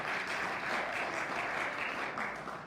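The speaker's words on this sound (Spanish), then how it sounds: "Es un aplauso por eso." Church congregation applauding during a Pentecostal service, a steady, dense wash of many hands clapping together throughout, fairly distant and even in level with no voices standing out.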